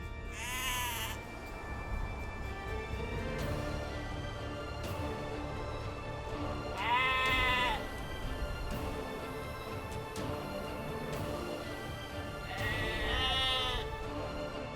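Sheep bleat in the video game Age of Empires II, three drawn-out wavering bleats spaced several seconds apart over a steady background game ambience, with no talking.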